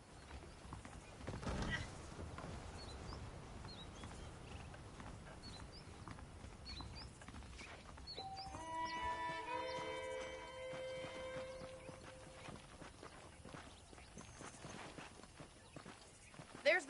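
Horse hooves clip-clop in Red Dead Redemption, a steady patter of footfalls under a continuous ambient game bed with a brief whinny, while a voice talks over them.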